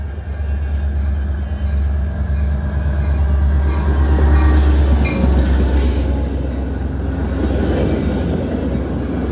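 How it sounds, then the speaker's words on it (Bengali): A local two-storied diesel train pulls into Prospect Heights station, its deep, steady rumble loud and close throughout, with rail and wagon noise rising slightly toward the middle. "এই যে একটি ট্রেন ঢুকছে স্টেশনে"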